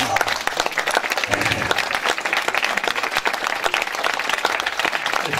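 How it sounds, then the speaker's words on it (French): Audience applauding magician Didier Lorini at a show in St Pierre du Chemin, loud continuous clapping from a full crowd sustained throughout, with a faint murmur of voices mixed in. "il va revenir pour que vous l'applaudissiez"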